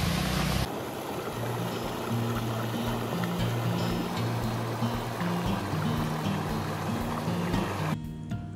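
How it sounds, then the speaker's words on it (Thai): A small waterfall and stream at Wang Mai Pak falls in Lan Saka, Nakhon Si Thammarat, Thailand, give a steady broadband rush of flowing water, fairly close and unbroken, with faint low thumps and no speech. "นี่ครับก็เป็นน้ำตกเล็กๆนะ"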